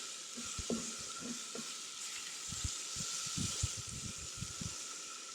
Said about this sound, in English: I hope that sizzle's picking up on the GoPro microphone because it sounds awesome.